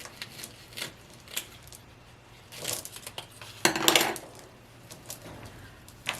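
Stones poured into a small glass block terrarium, giving a brief clattering burst of hard pebbles rattling against glass, preceded by a few scattered light clinks and taps nearby.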